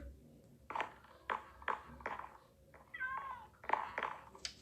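Several short cat meows from a Minecraft game follow one another at an uneven pace, fairly quiet and close, with a higher squeaky trill in the middle.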